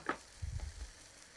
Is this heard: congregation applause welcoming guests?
no